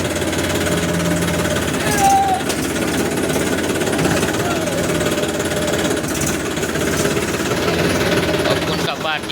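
A farm tractor engine runs steadily at a parking spot in the early morning, a loud continuous chugging rumble that holds throughout, with a brief voice in the background.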